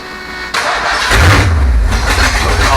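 A Ford Bronco under restoration cranks and fires up, its timing slightly out: a sharp click of the starter, then the engine catches and roars loudly, settling into a rough, rumbling run close by.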